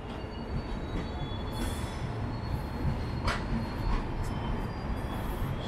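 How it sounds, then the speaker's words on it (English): A Trichy–Howrah passenger train rolls steadily into Tiruchirappalli Junction with a continuous rumble, faint wheel squeals and brief metallic screeches rising above the noise. "This is Trichy Howrah train which is just coming towards platform."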